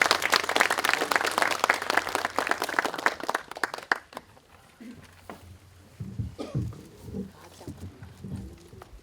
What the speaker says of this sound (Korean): 박수로 강사님을 맞아주시기 바랍니다.